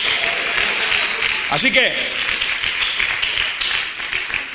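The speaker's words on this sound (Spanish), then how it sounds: "Dele un aplauso al Señor." A church congregation applauds during a sermon, a continuous wash of clapping with a brief spoken phrase breaking through near the middle.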